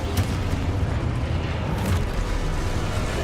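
A deep, rumbling blast from the Confringo fire spell in the video game Hogwarts Legacy, loud and sustained with a broad low roar and a couple of sharper bursts, heard alone without talk.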